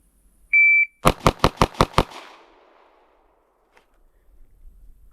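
Six rapid, loud gunshots from a Glock 43X pistol fitted with a Ramjet compensator, firing 124 grain HST +P rounds, cracking in an even burst after a short electronic beep and trailing into a brief echo.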